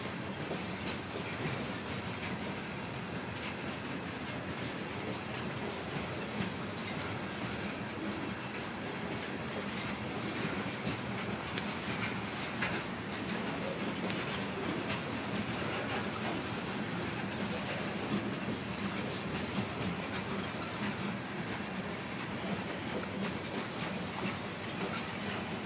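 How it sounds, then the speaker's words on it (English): A long CSX mixed freight train rolls past a crossing in Holland, Michigan, a continuous loud rumble of wheels and rail cars with clicking joints and faint wheel squeal, steady for the whole stretch with no voices. "Because there's a train going by, the stoplight just flashes yellow."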